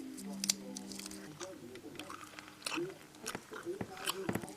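Chewy sugar-coated fruit pastel candies are chewed close to the mic, with soft squishy bites and wet mastication under and between a person talking.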